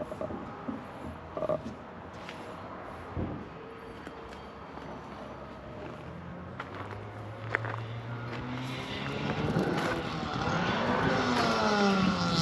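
Car engine note rising and straining with a hard, botched gear change, the revs climbing into a loud sustained drone toward the end, with no talk over it.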